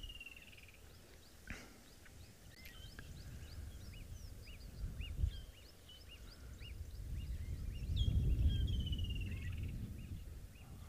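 Birds call in the African bush at a dam at sunset, scattered chirps and whistles repeating at a distance over a low rumble of wind and ambient noise.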